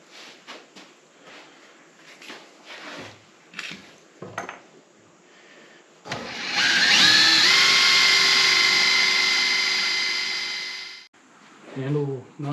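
A cordless drill drives a bolt into a black walnut live-edge picnic table, a loud, steady whine lasting about five seconds before stopping abruptly, preceded by knocks, handling clatter and brief talk.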